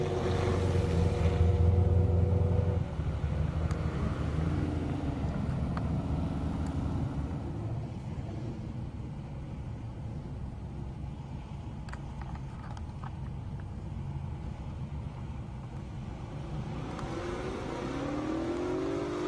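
A Camaro and other cars drag racing at the Indy airstrip, a loud engine roar pulling away then a sustained mid-distance drone of passing motors, rising again near the end.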